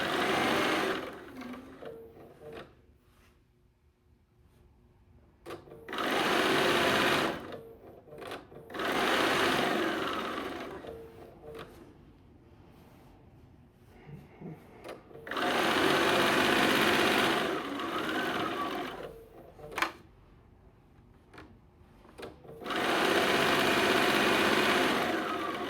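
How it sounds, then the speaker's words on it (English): Bursts of a sewing machine stitching, a steady high-speed mechanical whir starting and stopping several times, with quiet pauses between runs. "At your sewing machine."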